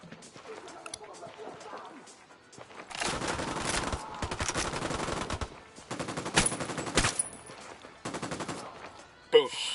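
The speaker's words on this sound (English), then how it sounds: "I'm opening fire on these shitheads" Gunfire in the video game Ghost Recon Wildlands: dense bursts of automatic fire in several long volleys, loud and close, with a voice talking over the shooting.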